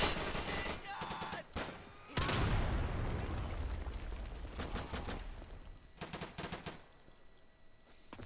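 Repeated bursts of automatic gunfire in a World War II shooter pitting Nazi and US forces, loud and close, with rapid clusters of shots separated by brief gaps and a heavy blast-like rumble in the middle.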